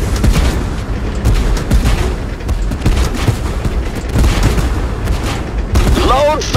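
Tank cannon fire and explosions in the video game Tank Force come as a dense, loud barrage of booms and blasts with no break, and voices are heard under the din.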